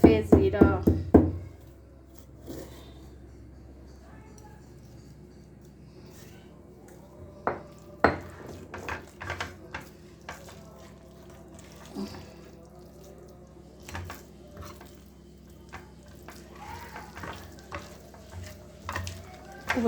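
A moong dal tikki mixture with lemon, garam masala, black pepper and cumin gets stirred and mixed in a bowl, with irregular soft scraping and clinks of a spoon and a quiet background.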